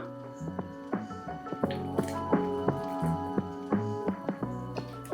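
Coconut cashew paste goes into a boiling salna gravy, making soft wet squelches and plops over a steady bubbling simmer, close and quiet.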